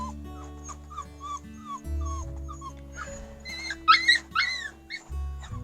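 Puppies whimper in thin, rising and falling whines, with soft cries at first and then a cluster of louder, higher yelps near the end, over a steady low electrical hum.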